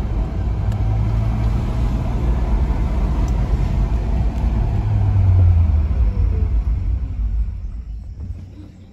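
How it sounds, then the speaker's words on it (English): 4x4 crawling in low-range transfer case with all differentials locked, a loud continuous low engine and drivetrain rumble that swells slightly mid-way and eases off near the end, no talking. "Now all the differential is locked, driving as it should in the low transfer case."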